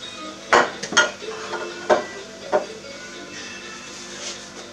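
A metal pan is handled on a stove while oil heats for Corsican figatellu with lentils, giving about five sharp, close clanks and knocks in the first half, followed by quieter faint clinks.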